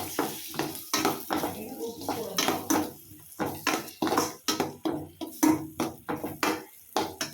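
Egg being stirred and spread in a pan with onions, a spatula scraping and tapping the metal in a quick, busy rhythm under a light sizzle, close by and fairly loud.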